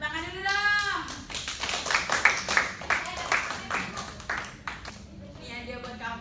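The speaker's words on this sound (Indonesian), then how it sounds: "Tepuk tangan dulu dong" Students clap in a classroom, a short scattered burst of hand claps lasting a few seconds, with voices speaking before and after it.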